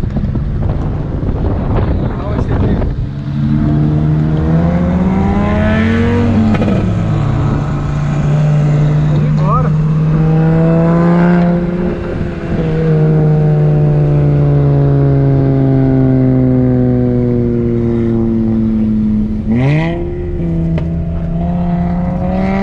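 An Audi TT and a Volkswagen Jetta 2.5 rev and rise in pitch as they accelerate in a race, their tones sweeping up and down with gear changes under heavy wind noise.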